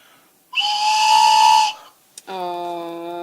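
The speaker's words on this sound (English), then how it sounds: "So does the whistle work?" Two loud whistle blasts close by, the first long and breathy with a hissing edge, then a brief click and a second steadier, harmonic-rich tone.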